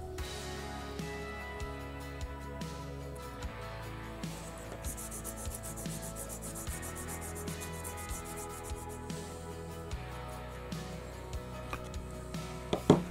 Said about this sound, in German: so prägt sich dann die Struktur der Feile in unsere Folie ein